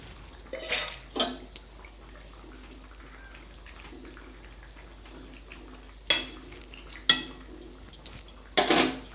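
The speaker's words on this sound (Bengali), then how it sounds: "ভেজে রাখা মাছগুলোও দিয়ে দিব" Fried rohu fish going into a pot of curry with bottle gourd stems and green banana, heard as a few scattered clinks and scrapes of utensil on metal over quiet kitchen background.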